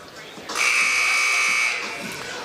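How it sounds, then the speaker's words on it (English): Buzzer at a boys' all-star basketball shooting contest, a single loud, harsh, sustained tone lasting about a second over gym crowd noise, with a commentator speaking around it. "Buzzer goes off."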